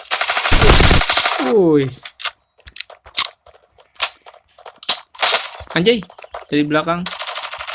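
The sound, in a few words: gunfire in the video game Forward Assault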